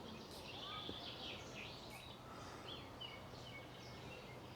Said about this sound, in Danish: Og der var en bogfinke.